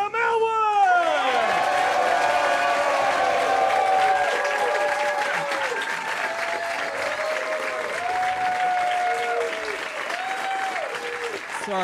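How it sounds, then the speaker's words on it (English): Loud audience applause and cheering fill a stand-up comedy show as the comedian is introduced, a dense sustained clapping that holds steady before easing slightly toward the end. "Please give a nice, huge round of applause for the man of the night, Graham Elwood!"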